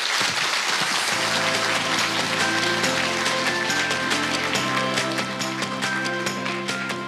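Audience applause for someone speaker at an Australian presentation, a steady dense clapping that runs the whole stretch, with a sustained tonal music-like layer underneath.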